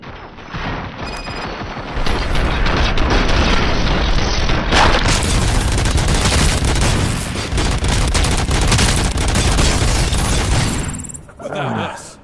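Loud, sustained gunfire and booming impacts come from a firefight in RoboCop: Rogue City. Rapid shots and explosions blend into a dense, continuous roar for about ten seconds before cutting off.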